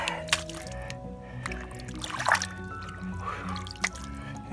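Water from a garden hose trickles and drips into a freshly dug hole at a backyard pool project, a faint, uneven splashing with a few louder drops.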